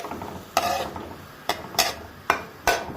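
Onions in hot corn oil sautéing for a stir-fry, with a soft frying hiss broken by several sharp scrapes and clacks of a utensil stirring against the pan, close and unaccompanied by speech.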